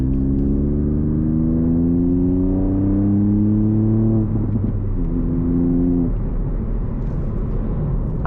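A 2018 Ford Fiesta ST Mk8 engine in sport mode accelerates hard from inside the cabin, pitch climbing steadily through a gear, dropping at a shift, then revving up again, loud and continuous.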